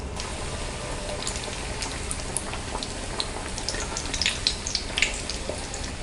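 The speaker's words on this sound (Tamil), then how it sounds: "ஆயில் நல்லா காஞ்சிருச்சு. இப்போ நம்ம டீப் ஃப்ரை பண்ணிக்கலாம்." Badam puri dough frying in hot oil over a low flame, giving a steady, close sizzle with scattered bright crackles and pops throughout.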